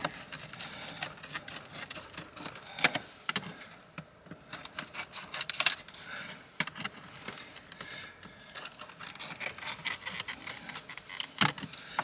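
Plastic packaging around a set of LED lights for a truck camper being cut open up close: irregular crinkles, snips and rustling handling noises come in quick bursts and short pauses, with no talking.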